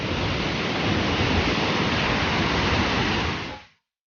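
Water rushes and sprays steadily at a dam, a loud, dense wall of roaring noise heard close up, fading out abruptly near the end with no voices.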